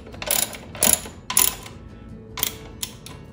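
Ratchet wrench clicking in short bursts while hand-tightening the bolts on Yamaha FJR1300 throttle bodies, about five quick, close, moderately loud ratcheting runs separated by brief pauses, with no talk.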